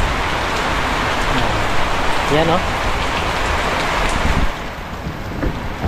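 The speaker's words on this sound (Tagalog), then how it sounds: "Kanina sobrang lakas nga ng ulan na yan." Heavy rain pours steadily outdoors near a fishing area, a dense close hiss drumming on surfaces throughout, with someone speaking briefly over it.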